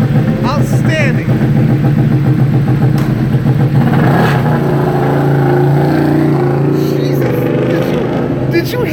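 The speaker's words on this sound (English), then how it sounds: "Did you hear the sound of that motorcycle?" A loud BMW HP4 Race motorcycle with an SC Project exhaust roars nearby, its pitch rising and falling as it revs and passes, with people talking over it.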